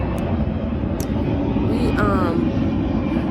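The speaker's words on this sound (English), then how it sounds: "the planes are so loud, it made me lose my" Steady low engine rumble of aircraft passing overhead, constant and fairly loud throughout, with faint voices and brief chirps above it.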